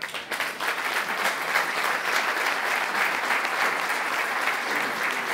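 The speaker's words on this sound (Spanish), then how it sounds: "Cada vez que cuento esto sé que despierta aplauso" Audience at the Congreso Nacional PyME 2023 bursting into applause, loud sustained clapping from a large room that starts abruptly and holds steady throughout.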